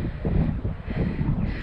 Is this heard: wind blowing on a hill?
yes